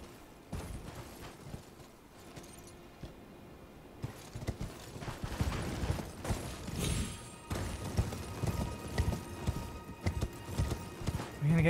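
Horse hooves clip-clopping at a gallop in the video game Elden Ring, a steady rhythmic pounding that runs through the clip over game music and effects, with a brief bit of talk.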